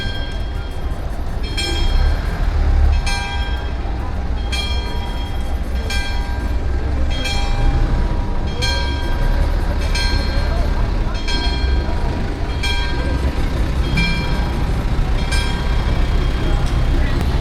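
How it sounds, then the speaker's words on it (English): Church bells ring at noon in Antigua Guatemala, a series of evenly spaced metallic strikes over a constant hum of street and traffic noise, with people talking nearby. "must listen to the bells."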